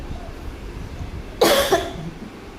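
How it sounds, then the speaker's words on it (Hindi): A woman coughs in a short, sharp burst of two or three close coughs, loud against a quiet room background, with no talking. "बीच बीच में खांसी ही आ जाती है"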